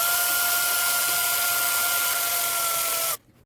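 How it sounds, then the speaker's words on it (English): A power drill fitted with a new bit runs at a steady high whine for about three seconds, close and fairly loud, then cuts off abruptly, during a custom wheel swap on a Hot Wheels Nissan 350Z toy car. "Had to change the drill bit. The other one was a little too slow."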